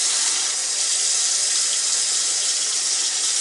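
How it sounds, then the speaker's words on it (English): Water pours steadily into a bag holding a catfish, a continuous bright hissing rush that stays even and close for the whole stretch, with no voices. "Once the fish is in your bag, you want to fill the bag with water just above the fish."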